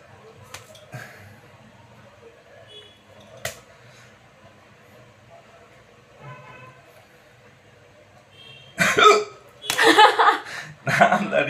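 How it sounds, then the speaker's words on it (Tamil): A person hiccups a few times, with soft, sharp catches spread apart against a quiet room, before louder bursts of talk and laughter break in near the end. "உங்களுக்கு தானே விக்கல் நிக்கணும்."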